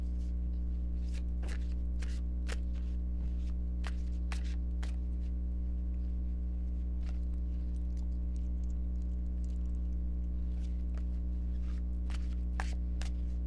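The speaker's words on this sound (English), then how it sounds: "I know that this shuffling is going to take a while. I'm specifically shuffling," Tarot cards shuffled slowly by hand, scattered soft riffles and flicks near the mic over a constant low hum, no voice.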